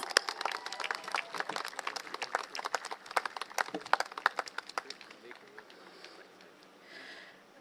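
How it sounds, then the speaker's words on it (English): A rally audience claps and applauds, dense crowd clapping that thins out into scattered claps and fades after about five seconds, then brief quiet murmur. "Can we give him another round of applause, please?"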